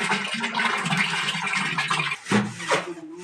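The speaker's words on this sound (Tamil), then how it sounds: "இப்போ மீதிக்கு வந்து தண்ணி ஊற்றி கரைக்கிறோம் சாணியை நல்லா" Water splashes and sloshes continuously into a container of cow dung to dissolve it, with a couple of stronger pours near the end, close by and fairly loud, no talking.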